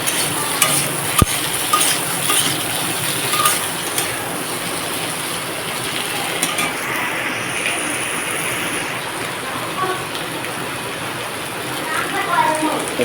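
Potatoes frying and being stirred in a pan during home cooking, a steady broadband sizzle with scraping stir noises running throughout, with talk over it.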